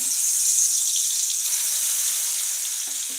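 Tap water runs steadily into a sink while potatoes are rinsed clean of soil in a home kitchen, a continuous close hiss with faint knocks of handling near the end.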